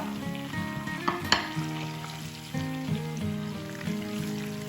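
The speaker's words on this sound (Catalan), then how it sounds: "En el mateix oli que teníem, calentó encara, i fregim l'all i el julivert" Garlic and parsley fry in still-hot oil, a steady sizzle running throughout at moderate volume, with a brief clatter of stirring partway through and a tonal hum beneath.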